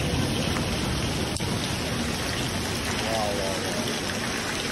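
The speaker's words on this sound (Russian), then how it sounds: "Но вода прям как из ведра льется." Heavy rain pours down on a construction site with a foundation and a crane, a dense, steady, loud hiss of downpour with no pauses, nearby, with talk faintly mixed in.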